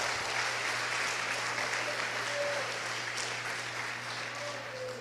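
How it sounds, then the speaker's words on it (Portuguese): A church congregation claps in sustained applause, fairly faint and distant, holding steady for several seconds. "Dá um aplauso para Jesus por isso, irmão."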